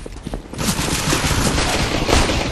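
Loud, rapid bursts of automatic gunfire crackle in a Counter-Strike: Global Offensive match, starting after a brief quieter moment and then hammering on continuously.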